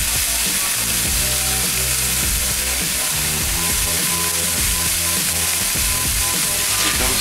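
Mushrooms sizzle steadily in a pan on medium heat, a loud continuous frying hiss with repeated scraping and stirring strokes throughout, no talking.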